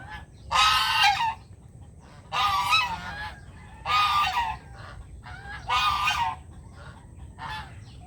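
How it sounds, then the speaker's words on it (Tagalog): Geese honk loudly in five separate bursts, a second or so apart, close by with quiet background between calls. "So yan yung gusto kong alagaan sana dito. Gansa."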